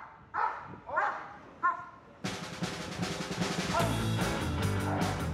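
A search dog in Lima, Peru, gives several sharp, close barks and yips in quick succession, followed by louder mixed noise and voices.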